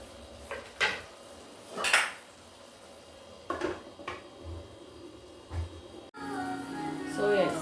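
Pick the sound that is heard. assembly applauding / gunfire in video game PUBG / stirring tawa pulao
stirring tawa pulao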